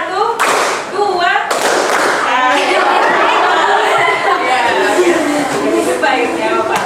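A class of students claps together in a rhythmic count, sharp loud hand claps landing in repeated bursts, mixed with children's chatter and voices throughout.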